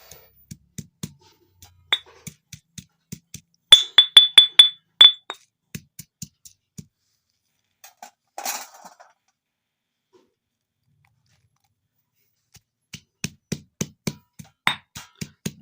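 Garlic for a pickle is pounded by hand in a mortar, sharp rhythmic knocks with a slight ringing edge, coming in quick bursts broken by short pauses and one scraping stroke.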